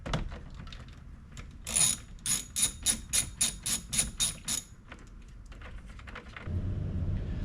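A ratchet wrench loosens a 13 mm nut on the fuse box power wire in an off-road dual-battery install; a rapid run of about nine close, sharp ratcheting clicks sits between quieter handling noises.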